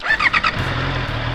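A Honda CBR650R inline-four motorcycle starts: a few short starter whirs, then the engine catches and settles into a smooth, steady low idle, close and without voices.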